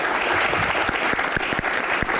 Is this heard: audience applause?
yes